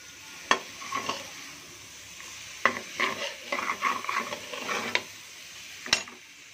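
Bottle gourd stirred with masala in a pan, a spoon scraping and clinking in irregular bursts over a faint sizzle, close and moderately loud with no talk.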